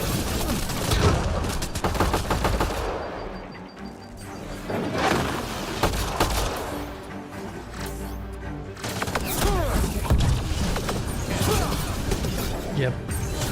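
Gunfire in the video game Mass Effect: Andromeda, dense rapid bursts of shots running almost continuously and fairly loud, with brief lulls, under a busy game soundscape and some talk.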